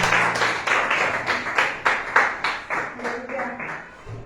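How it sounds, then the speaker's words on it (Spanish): A church congregation clapping in a loose, rhythmic beat, a string of distinct claps rising and falling for several seconds while voices carry through. "Un aplauso a Dios,"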